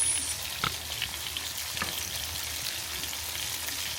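Hamburger meat frying in a pan, with a steady soft sizzle and a few faint clicks or scrapes, no voices.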